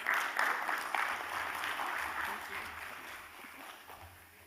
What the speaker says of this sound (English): a hand of applause to her